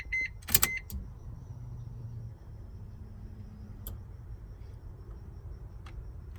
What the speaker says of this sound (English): Let's see if the fuel pump comes on.